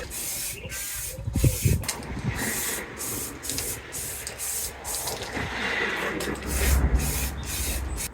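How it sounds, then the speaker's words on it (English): Spray paint hisses in repeated bursts onto a guitarolin body being coated light purple, loud and close, with short pauses between passes. "That's all now completely sprayed up."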